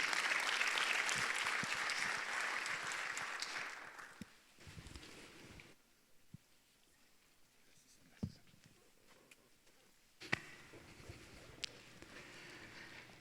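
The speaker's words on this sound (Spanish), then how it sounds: "le damos un fuerte aplauso para que nos comparta de la palabra del Señor" A church congregation applauds for the pastor, with dense, steady clapping for about four seconds that then fades to quiet, leaving only a few faint sharp taps and small knocks in the room.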